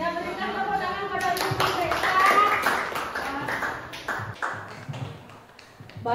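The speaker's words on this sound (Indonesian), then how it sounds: "berikan tepuk tangan pada ibu mereka" An audience claps for a mother at a school event, with steady moderate clapping and a few louder claps running throughout, and a voice speaking faintly underneath.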